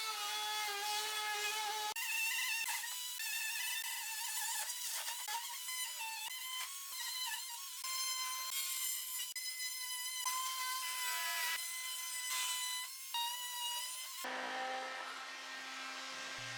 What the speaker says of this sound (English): take our oscillating tool, and we'll go ahead and start cutting off the flange